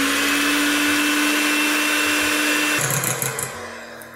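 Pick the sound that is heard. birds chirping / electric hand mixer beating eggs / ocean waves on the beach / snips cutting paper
electric hand mixer beating eggs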